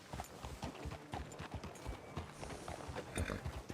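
Horse hooves clip-clop steadily in Red Dead Redemption 2, a continuous run of hoof strikes on hard ground with a dense rattling rhythm, moderately close and without speech.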